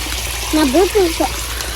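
Water gushes steadily into a maize field in a continuous rushing flow while someone talks over it close by.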